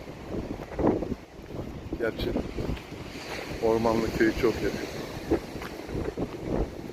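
Strong wind buffets the microphone in steady gusts while Black Sea waves wash in the background on the Istanbul coast, with someone talking over it all.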